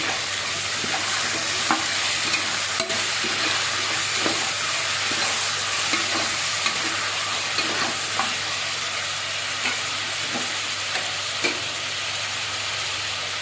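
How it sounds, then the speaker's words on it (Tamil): Tomatoes and onions sautéing in a pan, a constant loud sizzle with regular stirring strokes and spoon taps against the metal across the whole stretch. "தக்காளி வெங்காயம் வதக்கிறதுக்கு மஞ்சள் தூள், உப்பு"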